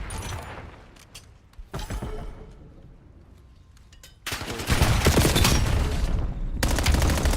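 Call of Duty League match gunfire, sporadic single shots and short bursts that give way to a loud, sustained volley of rapid fire near the end, close and punchy.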